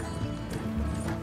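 Horses pulling a wagon in Red Dead Redemption 2, a quick rhythmic clip-clop of hooves close by with rattling and rolling underneath, over a low background rumble.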